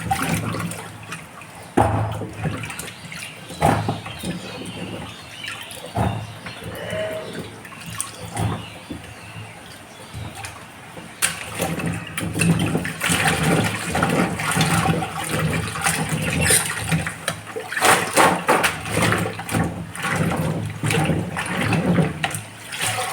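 Radishes and new potatoes are washed under running water, with a continuous splashing gush of tap water and intermittent clatters and knocks as the vegetables are handled.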